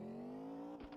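Engine of a car in a Unity vehicle physics game, a steady rising drone that dips near the end with a brief broadband burst as the gear shifts, then resumes; close and continuous, no talk.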